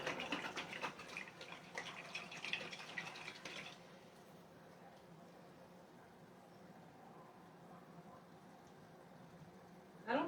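Tap water runs steadily while a dish is rinsed in a kitchen sink during lasagna roll preparation, a loud broadband rush for the first few seconds that then drops to a quiet hiss, with a brief burst at the end.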